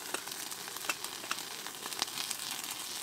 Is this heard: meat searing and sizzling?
yes